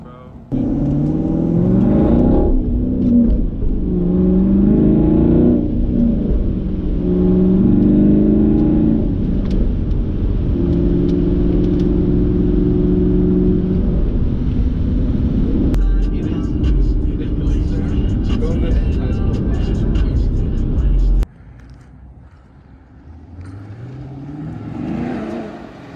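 A 2016 Chevrolet Camaro SS V8 engine, already warm, revs several times in a school parking lot, loud and close, with rising and falling roars over a deep idle rumble, then drops to a quieter idle near the end.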